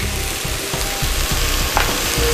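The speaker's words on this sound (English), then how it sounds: "I'm going to saute this all up" Zucchini and mixed vegetables sauté in a hot pan, giving a steady close sizzle and fry hiss throughout, with faint scraping stirs.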